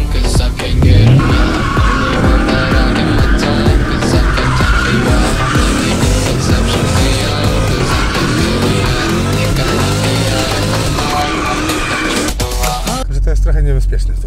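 A Chevrolet Camaro SS 6.2 drifts in a circle in a forest, tires squealing continuously over the roaring V8 for the whole stretch, with people talking over the noise.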